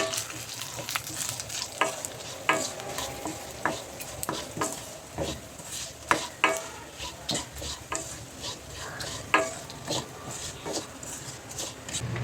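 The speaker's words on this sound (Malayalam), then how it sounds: "ഇനി നമ്മൾ ചതച്ച് വെച്ചിട്ടുള്ള ഈ ഒരു സ്പൈസസ് ഫസ്റ്റ് ഇട്ട് കൊടുക്കാം." Crushed spices with curry leaves sizzle steadily in hot oil in a pan for a medicinal rasam, with repeated scraping and stirring strokes close by and no talking.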